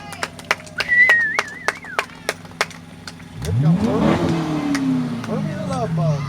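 A Stingray show car in a parade lets out a loud engine rev that swells and falls away, following a run of sharp clicking taps and a short whistle-like tone.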